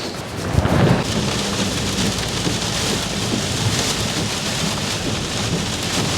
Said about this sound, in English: And the rain has started yet again.